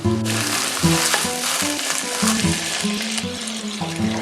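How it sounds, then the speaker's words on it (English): Chopped jalapeno sizzles steadily in a hot pan while a utensil stirs and scrapes through it, with low rhythmic knocks and a continuous broadband fry across the whole stretch. "Next, add the chopped jalapeno and mix well."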